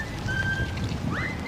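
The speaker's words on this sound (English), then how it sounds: "Like the whistling. I think that's new." High, thin whistling tones drift and slide over a dim ambient backdrop in the horror video game Bendy and the Ink Machine, faint and unaccompanied by speech.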